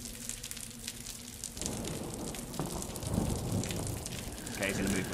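Rain in the Wick horror video game sets in abruptly as a dense, hissing downpour that grows louder and steadier, with low rumbles underneath and faint scattered sounds but no speech.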